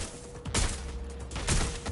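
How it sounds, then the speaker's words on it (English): Gunfire in the video game Watch Dogs: Legion, two loud broadband bursts about a second apart over a steady low game ambience, with no talking. "Someone's shooting."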